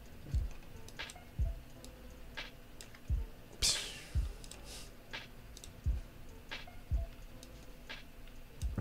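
Computer mouse clicks sound in sharp single taps, roughly one per second and fairly close, over a quiet room background, with one louder rustling bump partway through.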